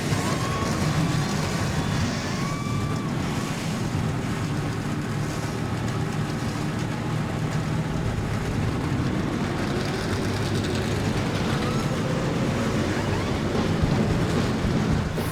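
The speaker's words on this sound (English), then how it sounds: "42 cars are fired up and ready to do battle here at Texas World." Dense, steady roar of 42 NASCAR stock car engines idling together in the NASCAR Racing 2003 simulation at Texas World Speedway, a continuous loud rumble with faint rising whines, no talk.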